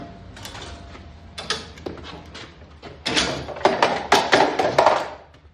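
A lever on a tube steel equipment stand with 10-inch tires is worked, giving a series of metallic clanks, ratcheting clicks and rattles that grow louder and denser toward the end, close by with no talk.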